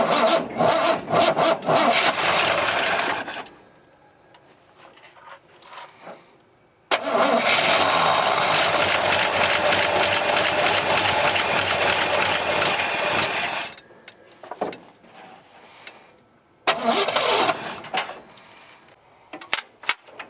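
Fire-damaged Chevrolet C10 pickup engine cranking and catching in loud bursts, with two long roaring stretches and quieter gaps between attempts, no talking.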